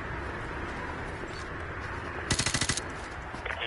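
Automatic gunfire in the Call of Duty Modern Warfare 2 remastered campaign, one short rapid burst of about eight shots over a low ambient rumble, followed by a few fainter pops.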